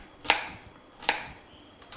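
A knife chopping onion on a board while cooking mixed vegetable sambar, three sharp separate chops spaced about a second apart, close and crisp with no talking.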